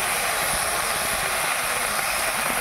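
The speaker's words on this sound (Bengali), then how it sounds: "এবার হালকা করে একটু ভেজে নেব।" Okra sliced into a pan with onions, lightly frying in oil, giving a steady, loud, continuous hiss with no breaks or other sounds.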